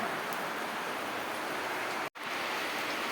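Steady rain falls on a farm during the monsoon, a dense, even hiss of downpour close by that runs unbroken apart from one brief cut, with no voices.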